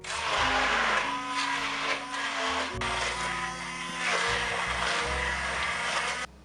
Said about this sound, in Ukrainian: Я зроблю міксером.